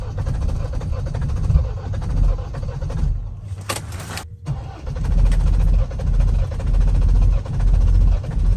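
A Mahindra Thar being started in freezing cold on a winter trip to Spiti: the engine cranks, catches after a brief pause, then settles into a loud, steady running rumble close by.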